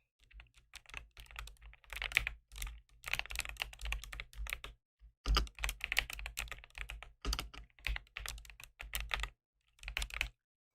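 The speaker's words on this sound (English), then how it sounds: "office worker with long acrylics typing ASMR" Long acrylic nails clatter across a computer keyboard in quick, dense bursts of clicky keystrokes, pausing briefly between runs; close and crisp with no voices.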